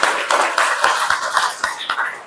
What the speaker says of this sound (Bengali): ধরে হাততালি হবে